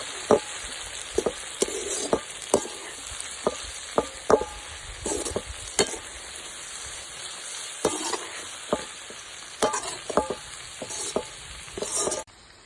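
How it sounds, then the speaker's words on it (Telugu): Chili powder is stirred into a sizzling brinjal and dried fish curry in a pan over a village cooking fire, with sharp scraping ladle strokes at irregular intervals over a steady hiss of frying, close and clear. "మొత్తం కలిసేలా ఒకసారి కలుపుకుందాం."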